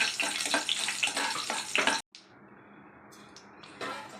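Tempering spices frying in a pan for a cabbage, beans, carrot and green peas fry: a dense close sizzle, then a sudden cut to a softer steady hiss with a few brief crackles.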